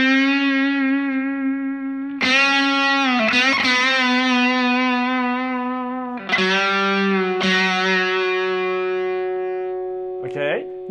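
Electric guitar solo notes from a song, played with distortion and effects, sustain with pronounced vibrato and bends, several long wavering notes close and loud, and no talk over them.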